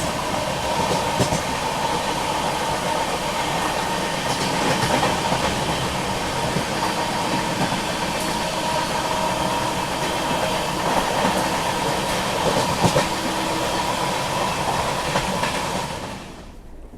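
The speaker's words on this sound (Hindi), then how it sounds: "इसको जस्ट सिग्नल मिला है। कानपुर शताब्दी एक्सप्रेस।" The Kanpur Shatabdi Express rolls past in a sustained, loud rumble with rapid rhythmic clickety-clack of wheels over rail joints, fading at the end.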